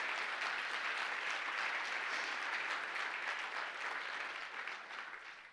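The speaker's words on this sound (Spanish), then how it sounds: "Dele fuerte el aplauso al Señor" Church congregation applauding during an evangelism service, a continuous, fairly loud wash of clapping that tapers slightly at the end.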